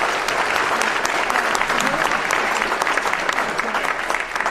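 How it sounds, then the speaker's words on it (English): An audience at a Veterans Day ceremony in Belleville, Illinois claps steadily for the Master of Ceremonies, a loud, dense round of applause sustained from start to finish. "join me in a round of applause for our Master of"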